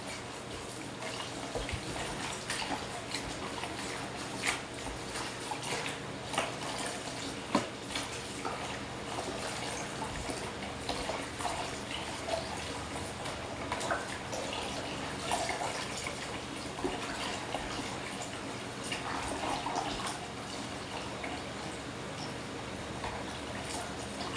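Chilies are washed under a running tap, with water pouring steadily and splashing continuously, close and moderately loud, and no speech.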